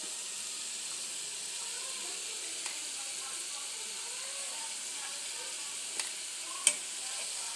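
A broad bean and tomato curry bubbles and sizzles softly in a pan, a faint, continuous simmer with a few small ticks and one brief clink near the end.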